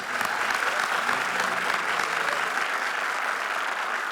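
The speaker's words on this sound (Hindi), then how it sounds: "थैंक यू, जोरदार तालियां।" Loud, steady applause from a studio audience at a Hindi television comedy show, a dense wash of clapping that carries on without a break for several seconds.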